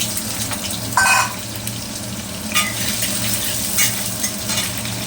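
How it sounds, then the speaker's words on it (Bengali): Chopped onions fry in a pan for chilli chicken, a steady close sizzle with brief bursts of stirring and spatula scrapes around one and four seconds. "পেঁয়াজ কেটে রাখা দিয়ে দিচ্ছি।"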